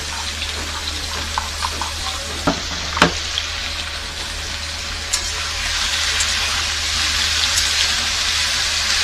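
Vegetables with salt and turmeric are stirred in a sizzling pan, with soft frying hiss and a few sharp utensil clicks and scrapes early on before the sizzle grows steadier.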